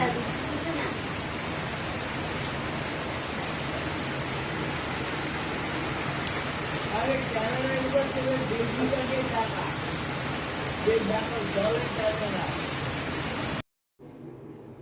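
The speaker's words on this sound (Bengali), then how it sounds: "আবার কি জোরে বৃষ্টি নেমে গেছে চলো তোমাদের দেখাই কীরকম জোরে বৃষ্টিটা নেমেছে" Heavy rain pours down steadily as a dense, even hiss, loud and continuous outdoors, with faint voices underneath; it cuts off abruptly near the end.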